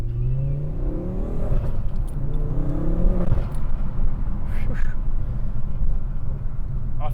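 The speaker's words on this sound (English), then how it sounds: "sounds like a proper good 5-cylinder" A Ford Focus ST with a five-cylinder engine accelerates, its engine note rising through a steady rough drone heard from inside the car, with faint road noise underneath.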